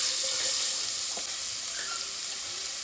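Chopped onion sizzles and sautés in a pot as a pot roast is prepared, a steady close frying hiss with faint stirring clinks and no speech.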